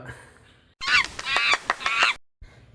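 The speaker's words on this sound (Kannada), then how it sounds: "ಇಲ್ಲೆಲ್ಲ ಬಾತುಕೋಳಿ ಆಟ ಆಡ್ತಾ ಇರ್ತವೆ" A burst of loud, harsh honking from ducks by the water at an ashram in Bengaluru, several calls crowding together over about a second and a half, with quieter background noise before and after.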